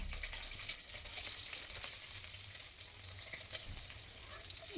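Green chillies and onion fry in oil in a pan, giving a soft, even sizzle that stays faint and steady throughout, with a small knock right at the end.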